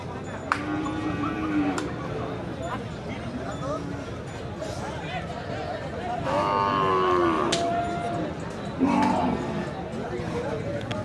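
Large Qurbani cattle low and moo repeatedly at a busy outdoor cattle market, several drawn-out calls rising over a steady crowd murmur and occasional hoof clatter, with people talking nearby.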